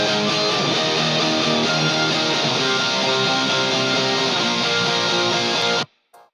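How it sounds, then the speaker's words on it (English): Rhythm guitars from a song, dense distorted chords strummed steadily, loud and sustained for about six seconds before cutting off. "Now let's get to the rhythm guitars. They sound like this."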